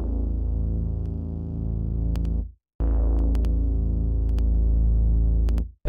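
Dirty lowrider synth bass from the Omnisphere Moog Tribute library, a thick, buzzy low tone that holds, cuts out briefly, then returns just as loud, alone with no voices.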